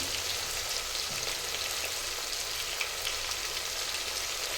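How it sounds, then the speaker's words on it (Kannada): Tomatoes fry in a pan for vangibath, giving a steady, dense sizzle with fine crackling throughout, close and even in level with no talking. "ಸ್ವಲ್ಪ ಟೊಮೊಟೊ ಮೆತ್ತಗಾಗೋ ತನಕ ಫ್ರೈನ ಮಾಡ್ಕೊಳ್ಳೋಣ"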